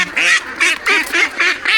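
Ducks on a farm give about six loud, close, nasal quacks in a quick, fairly even rhythm with short gaps between them.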